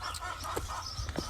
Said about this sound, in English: I hear somebody in the garden shed.